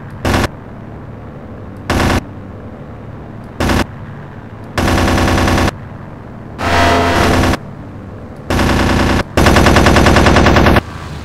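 Aircraft machine guns firing in the Aces High 2 flight combat video game, paired guns loosing loud mechanical bursts of varying length, several short and then longer sustained strings separated by brief gaps of engine hum.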